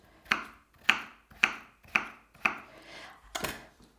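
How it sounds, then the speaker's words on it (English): Knife chopping vegetables, including a small potato, on a board in a home kitchen while preparing homemade stock cubes: five or six crisp, evenly spaced chops close by, each with a short decay, with no speech. "So it's the chopping that takes the time."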